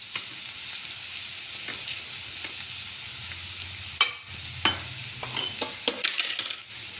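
Vegetables frying in a pan with turmeric, a steady close sizzle with sharp stirring clatters and scrapes bunching up toward the end.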